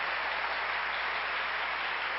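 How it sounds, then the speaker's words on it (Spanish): Loud, dense applause fills a church Sunday service, a continuous wash of clapping from the congregation with no break. "Démosle un aplauso fuerte al que vive"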